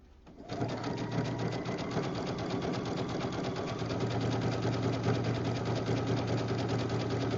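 A sewing machine starts up and stitches steadily as jelly roll rug strips are sewn together along their open edges, its fast, even mechanical chatter running close and continuous.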